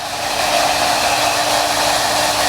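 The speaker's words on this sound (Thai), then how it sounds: "มาเป่าให้มันแห้งเร็วๆ แล้วก็เช็ดเป่าไปเลย โอเคเป่าเลยนะคะ" A hair dryer blows a stuffed rabbit's fur dry during a taxidermy job, its steady, loud broadband rush held unbroken from start to finish with no talk over it.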